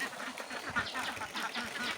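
Laying ducks quacking in a busy flock just released from the farm shelter in the morning, overlapping harsh calls repeating steadily throughout, fairly close and loud with no talk.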